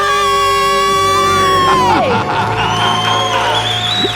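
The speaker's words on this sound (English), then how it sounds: "Let's hear a debt-free scream." A group of people let out a loud, excited celebratory scream, sustained and high-pitched, trailing off into whoops.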